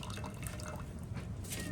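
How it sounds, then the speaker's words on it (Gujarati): Water is poured off boiled chicken in a home kitchen, a quiet continuous trickle and splash with faint dripping and steady background noise. "આપણે તો થોડું પાણી રાખ્યું ને આવી રીતના કાઢી નાખવાનું."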